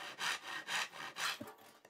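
A hand saw cuts through wood for a beginner rebated tray, four steady back-and-forth strokes rasping close and loud, then a brief knock as the cut finishes and a quieter final scrape.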